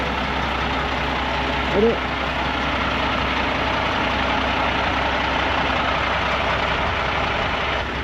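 Steady heavy engine rumble on an Australian outback highway, a continuous loud drone as a truck passes, with a brief spoken word near the start.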